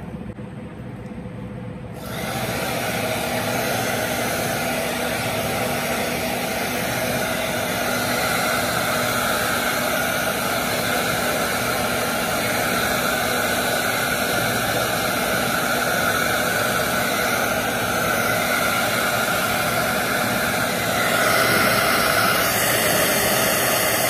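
A hair dryer blows steadily and loudly while hair is dried before straightening, starting after a short quiet moment and running as a continuous broadband whoosh with no talk over it.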